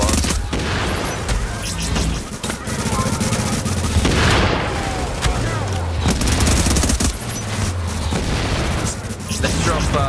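Rapid gunfire, including an MP5 submachine gun, aimed at a boss in the shooter game The Division, dense and continuous bursts across the whole stretch with some booming impacts, under players talking.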